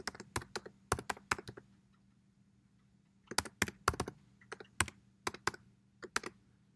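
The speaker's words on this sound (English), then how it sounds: "Now we're going to go ahead and type in the password that we created." Keys on a computer keyboard clatter as a password is typed, close, crisp taps in two quick bursts separated by a short pause, with no talking.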